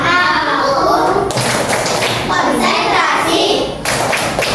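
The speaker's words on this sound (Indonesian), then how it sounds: "Tepuk konsentrasi." A classroom of children performs a rhythmic Indonesian concentration clap, patterned bursts of hand claps mixed with chanted children's voices, loud and close in a school room.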